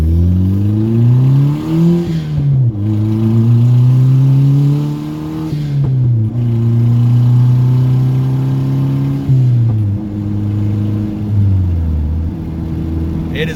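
A turbocharged Mazda 3 with a recently replaced MAF sensor accelerating on a test drive: loud droning engine note climbing through gears, rising pitch then dropping at shifts, heard from inside the car.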